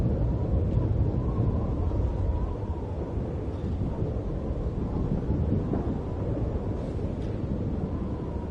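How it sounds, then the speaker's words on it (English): Storm ambience in the video game Genshin Impact: a steady, dense roar of rain and wind with low rumbling thunder, fairly loud and continuous throughout with no speech over it. "What is going on with this storm?"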